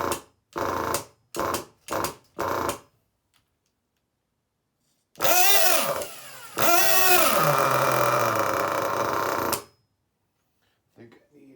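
A Losi 8ight nitro RC buggy engine gives four short, sharp blips of revving. After a pause it screams up into a long, loud, high run with rising and falling pitch, then cuts off.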